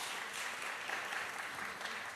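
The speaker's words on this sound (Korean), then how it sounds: "다시 한번 박수 부탁드립니다." Sustained audience applause fills a Korean civic culture camp hall, a dense steady wash of many hands clapping with no break, unaccompanied by talk.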